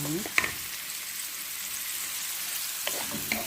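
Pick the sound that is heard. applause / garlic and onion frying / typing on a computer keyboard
garlic and onion frying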